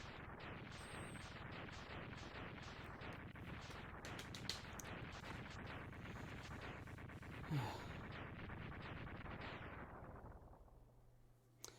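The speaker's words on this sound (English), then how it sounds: "I feel like that explosion went a little longer than it should" A crab boss explodes in the Mega Man X2 video game, a dense, continuous barrage of rapid blasts and booms that stays loud and steady for about ten seconds before cutting off abruptly.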